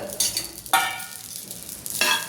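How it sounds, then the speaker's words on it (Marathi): Fresh green chickpeas are tossed onto a hot griddle to roast for a tuvar-pod curry. Short bursts of sizzling and scraping come in three quick surges close by, with no talking. "हे सोले आपण टाकून घ्यायचे आता तव्यावर"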